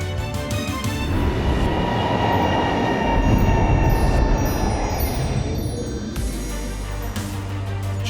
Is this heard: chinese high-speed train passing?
yes